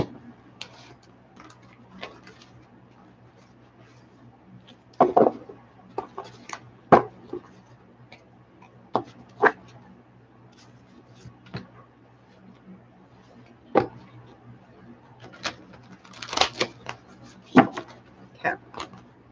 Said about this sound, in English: Let me get a couple more shuffles in.